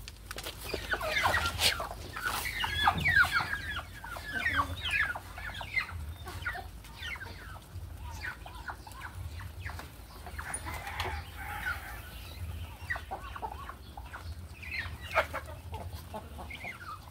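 Chickens on a small farm, kept alongside a few ducks and turkeys, cluck in a continuous, moderately loud chatter of short calls from several birds at once, with no voices heard.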